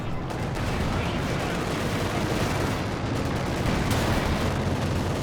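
Tank cannon and gunfire from a Panzer IV engaging a damaged KV-1 in the strategy game Company of Heroes 2, a dense, continuous barrage of shots and blasts with steady battle rumble throughout.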